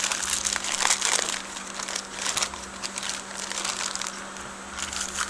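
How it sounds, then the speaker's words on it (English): A sheet of paper is crumpled by hand in steady, crinkly bursts for several seconds, close and fairly loud with no talk. "take a piece of paper, crumple it up"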